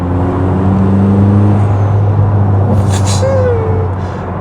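A Ferrari 849 Testarossa with very large turbochargers is driven on the road, a loud, close engine drone and tire roar under a brief whooshing release from the turbo blow-off valve midway through.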